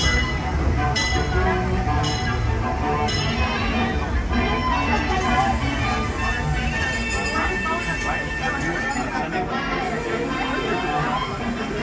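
A Disneyland Railroad train rumbles steadily along the rails, with a constant low roar and occasional clicks, while a voice speaks over it.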